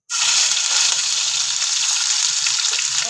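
Ginger garlic paste dropped into hot oil in a pan for a daal chawal recipe, giving a steady, loud broadband sizzle close up with no talk.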